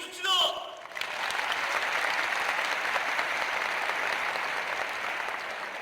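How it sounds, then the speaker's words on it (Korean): A gathering celebrating graduating high school students breaks into loud, sustained applause after a short burst of sound at the start, and the clapping continues evenly throughout. "열렬한 축하의 박수를 보내줍시다."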